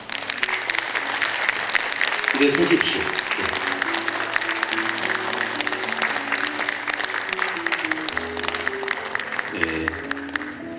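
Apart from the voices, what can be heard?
audience applause at literary festival opening ceremony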